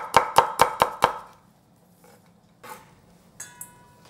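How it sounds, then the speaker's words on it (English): Five quick, evenly spaced knife chops through green onion on a cutting board, loud and close, followed by quieter kitchen clatter and small knocks with no talking. "Just chop it up."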